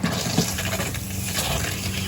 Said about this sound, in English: So now I'm just going to hit this hot water valve faucet on the faucet